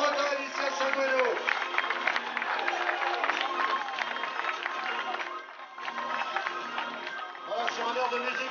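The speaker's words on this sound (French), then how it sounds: "vos applaudissements pour les trois champions de Bretagne ici à Saint-Guéno" A crowd applauds three Brittany cycling champions at a junior race in St Gouéno, with sustained clapping and cheering under loud announcer speech. The applause dips briefly near the middle, then rises again.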